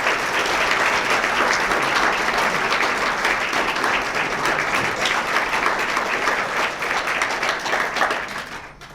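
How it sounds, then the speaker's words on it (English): A full hall in Bermuda breaks into sustained audience applause welcoming author Hampton Sides to a talk on Captain Cook, loud dense clapping that carries on for several seconds before thinning out near the end. "let's have a round of applause for Hampton Sides"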